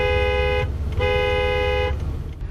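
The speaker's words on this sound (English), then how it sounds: "Now's the time to be assertive with that horn." A car horn honks twice in strong, sustained blasts separated by a short gap, loud and close against the low rumble of a vehicle with a malfunction.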